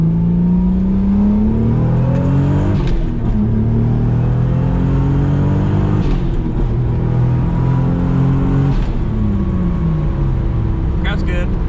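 Toyota Supra MKIV with a newly replaced clutch pulling hard in second gear, engine note climbing steadily in pitch through repeated rising sweeps with brief dips at shifts, loud and close inside the cabin.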